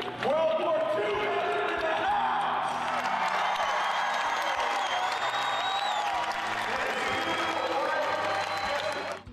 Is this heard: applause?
yes